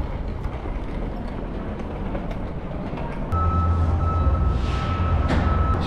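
Steady rumble of a train idling at a station, joined partway by a low engine hum and a sustained high tone, with a brief hiss near the end.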